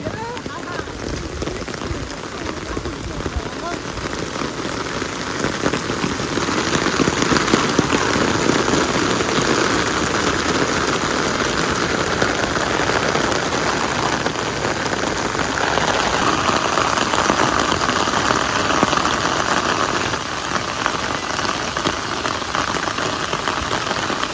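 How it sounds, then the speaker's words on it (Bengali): Heavy rain pours steadily and loudly on surfaces outside a village home, a dense continuous hiss throughout, with people talking excitedly over it. "সেই বৃষ্টি হইতেছে"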